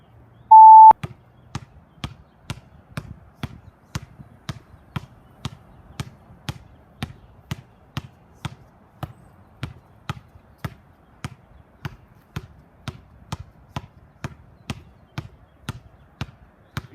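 A basketball dribbled with the left hand during a timed dribbling drill, giving a long, steady run of sharp, evenly spaced bounces for the whole stretch, opened by a short electronic beep.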